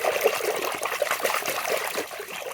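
Water trickles and splashes steadily and fairly close while big toy vehicles, including toy fire-control trucks, are being washed, with no voices.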